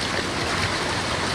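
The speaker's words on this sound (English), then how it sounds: "Give it a few quick rinses in the water" A freshly gutted trout swished through cold stream water, a dense continuous rush and gurgle of flowing water close by, with no voices.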